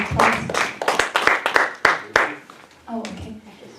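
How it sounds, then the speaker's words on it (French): Congregation in a church clapping for a few seconds, sharp close handclaps in a loose burst that thins out, with voices speaking over the end. "Let's give a hand of applause."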